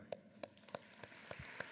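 Sparse, scattered claps from a convocation audience, a handful of distinct hand claps at uneven intervals, fairly faint and spread out over a quiet hall.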